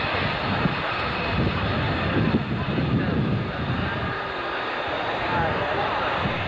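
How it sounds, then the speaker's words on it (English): A Rockwell B-1 bomber passes with a continuous loud jet roar and heavy rushing wind noise, sustained and dense, while voices can be heard under the engine noise. "I thought we've got to see the B-52 and now the B-1"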